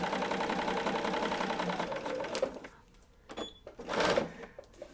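A sewing machine stitching an Alison Glass Trinket quilt block runs in a fast, even mechanical chatter for over two seconds. It then stops, followed by a few short bursts and clicks as the fabric is adjusted.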